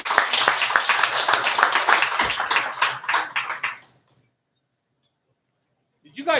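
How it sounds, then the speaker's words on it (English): Guests in a radio studio clap together in a dense burst lasting a few seconds, close to the microphone and tapering off into silence before a voice starts speaking. "Did you guys clap without audience"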